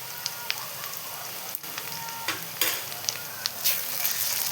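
Ginger garlic paste frying with curry leaves in hot oil, crackling and sizzling up close with sharp pops and the scrape of a stirring spoon across a short stretch, no talk.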